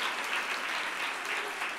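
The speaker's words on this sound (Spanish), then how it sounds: "Un aplauso fuerte para ella." Applause from an audience for a young girl singer at a children's singing and reading contest, a steady dense clapping that carries through the whole short moment at moderate level.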